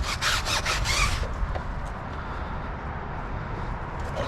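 A brush scrubs McKee's 37 tire and rubber product into tire rubber, giving a quick burst of rapid rasping strokes that then fades to a low, quieter rubbing hiss.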